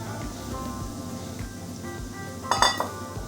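Flour goes into a metal basin in a home kitchen, marked by a short bright clink and rattle of the metal vessel after a stretch of quiet shuffling and low background noise.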